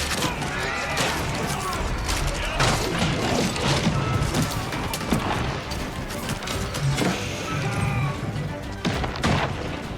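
Trebuchet shots from Age of Empires IV slamming into a stone keep during a siege, heard as heavy booms and crashing impacts over a dense, continuous battle din of clattering siege mechanisms.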